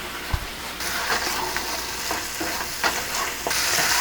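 Spice paste with Kashmiri chili powder frying in oil for hilsa malaikari, giving a steady close sizzle broken by repeated scraping stirs of a spoon in the pan.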